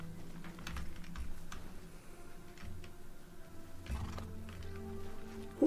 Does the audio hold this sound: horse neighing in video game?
yes